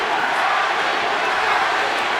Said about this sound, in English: The crowd going for Manny Pacquiao. The chants going up.